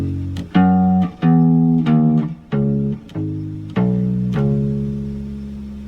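A bass guitar plays the chorus bass line of a song, moved up the neck, as a run of about eight distinct plucked notes in a steady rhythm, loud and clear, the last note ringing out.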